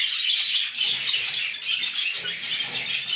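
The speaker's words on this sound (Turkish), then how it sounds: "Kuşlarımız şu an gayet güzel." Pet birds chirping inside an indoor aviary, a dense, continuous chorus of high tweets and calls close by, with brief wing flutters and no talking.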